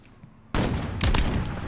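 Bursts of gunfire shooting through walls in the video game Call of Duty: Modern Warfare, erupting suddenly after a quiet moment into a loud, close volley with a second sharp burst partway through.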